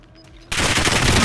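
Sudden burst of dense automatic gunfire in Call of Duty: Modern Warfare, erupting after a quiet stretch of faint game tones and continuing loud and sustained to the end.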